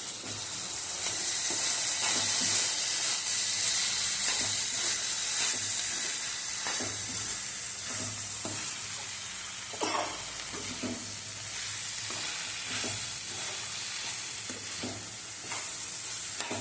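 A spoon scrapes and stirs through bottle gourd curry frying in a pan as chili powder is mixed in, with a steady close sizzle and hiss under repeated soft stirring knocks.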